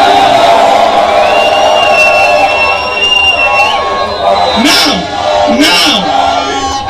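A large crowd at a political rally in Kano, Nigeria, roars and cheers continuously with scattered whoops and yells, loud and dense, beneath an amplified voice addressing the gathering.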